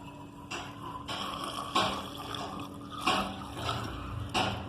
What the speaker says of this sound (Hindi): कार्बेटर वाली जगह पर हम पेट्रोल, थोड़ा सा इसमें पेट्रोल डालेंगे